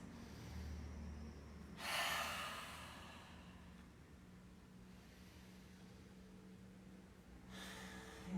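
Two loud breaths during a slow intermediate vinyasa yoga flow, each a broad rushing exhale about six seconds apart, over a steady low background hum.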